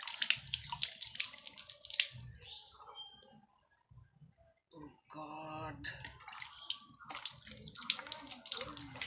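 Water pouring and splashing while Holi colour is washed off someone's head, in irregular bursts with clicks and drips, briefly dropping to a lull midway before the splashing resumes.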